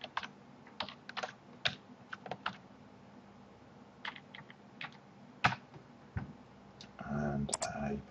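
Keystrokes tap on a computer keyboard in short irregular bursts as member details are entered into a web form, close and crisp, with a quicker flurry of typing near the end.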